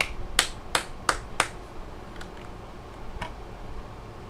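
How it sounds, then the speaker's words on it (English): A slow, sparse golf clap: four crisp, evenly spaced claps in quick succession, then a pause and two softer, fainter ones, heard alone in a quiet room. "Golf clap"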